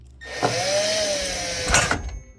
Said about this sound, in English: Just take out these 2 Phillips head screws here.